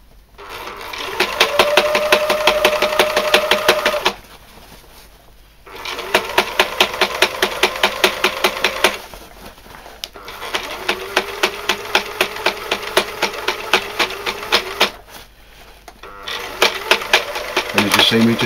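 Sewing machine stitching a Gorka suit, fast rhythmic mechanical clatter running in several long bursts with short pauses between, close and steady, with someone talking over it.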